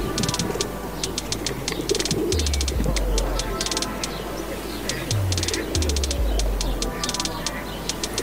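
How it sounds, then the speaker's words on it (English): Pigeons coo in a London park, soft repeated calls under a steady outdoor background with faint chirps and distant traffic hum. "Now there are some other birds in the park."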